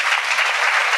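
A brief, close burst of dense clapping from a seated congregation at a Gujarati religious discourse, many hands sounding together in an even, continuous patter.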